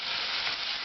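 Onions sweating gently in a pan for chilli con carne, a brief, steady soft sizzle heard on its own.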